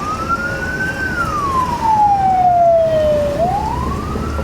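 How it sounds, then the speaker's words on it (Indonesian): An ambulance siren wails on a rough, congested coastal highway, one loud sweeping tone gliding down and back up over steady road noise. "Ambulan."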